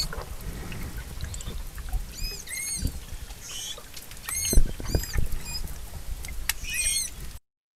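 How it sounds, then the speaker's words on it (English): Manatee vocalizations: a series of short, high-pitched tonal squeaks, squeals and chirps, some arching up and down in pitch, scattered irregularly over a faint watery background. "There's a squeak, which is tonal, the hill-shaped high squeak, a squeal, which is a noisy sound, a squeak-squeal, which is a combination of the squeak and the squeal"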